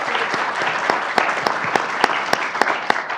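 An audience applauds a panel at a community event for the Utah Prison Education Project, dense, steady clapping from many hands, with a few sharper claps standing out near the microphone.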